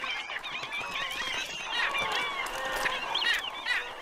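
Wading birds calling along Amazon waterways near shallow pools; a cluster of honking, goose-like calls overlaps continuously, fairly close and lively, with no talk.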